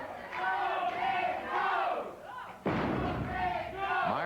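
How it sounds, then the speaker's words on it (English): A pro wrestling match: a loud crowd roars and shouts throughout, with a sudden heavy thud partway through as a wrestler is slammed to the mat, the crowd surging after the impact. "Myers slams him again."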